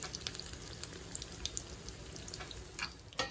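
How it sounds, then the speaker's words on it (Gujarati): Handvo batter cooking in a covered kadai over a low gas flame gives a faint, steady crackle and sizzle with scattered soft pops, a little louder near the end, and no talk. "હવે આપણે આને ધીમા ગેસે 10 મિનિટ માટે ચડવા દઈશું"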